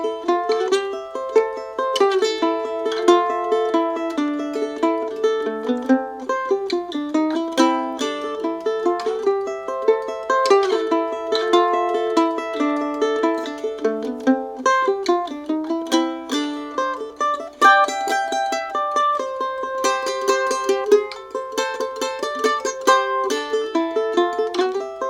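Wildwood Flower played as a cross-picked solo on acoustic guitar, a steady, busy stream of bright picked notes rolling across strings, close and clear with no talking.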